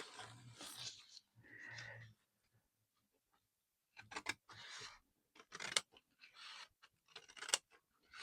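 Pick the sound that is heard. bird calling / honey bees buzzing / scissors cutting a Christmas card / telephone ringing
scissors cutting a Christmas card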